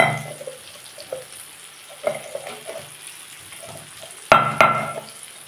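Gourd and prawns being sautéed in a pan with turmeric, green chilli and red chilli powder for a Bengali dish: a soft steady sizzle with scattered stirring scrapes and clatters, and a louder burst of sizzling and stirring near the end.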